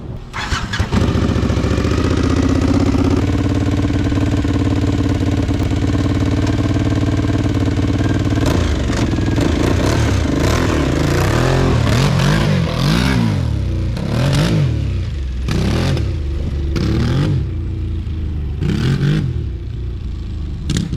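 A 1000cc Bat Buggy engine cranks and catches, then revs repeatedly in loud, rising bursts with short dips between, running steadily throughout at close range.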